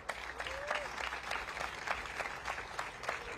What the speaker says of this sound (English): Please give a round of applause for Alderman Bob Bauman.